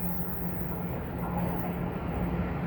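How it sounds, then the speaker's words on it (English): A southbound Toronto TTC subway train rolls into a station, a steady close rumble with a sustained low hum filling the platform throughout, no talk over it. "another southbound train that's rolling in, I can hear."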